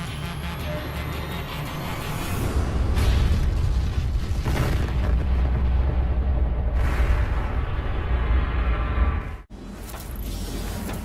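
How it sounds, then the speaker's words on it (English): Rocket explosion at a launch site after an engine malfunction, a loud sustained roaring blast with rumbling low end and debris-like bursts lasting several seconds, a brief cut near the end, then the roar resumes. "there was a horrific explosion"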